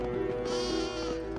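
Sheep bleating in the Charlie and the Chocolate Factory PS2 video game, one drawn-out wavering bleat over a steady droning game background.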